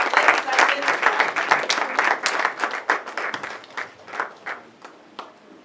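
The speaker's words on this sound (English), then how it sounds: "Let's give her a big hand clap." A crowd gives a hearty round of hand clapping to welcome a guest of honor at a formal gathering, loud and dense at first, then thinning into scattered claps.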